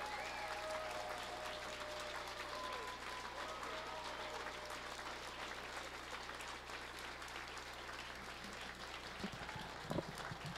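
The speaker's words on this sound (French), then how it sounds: "de vous applaudir très chaleureusement" An audience at an evening graduation ceremony applauds the graduates warmly, a continuous broad clatter of many hands over a low hum, with a few voices and faint tones mixed in.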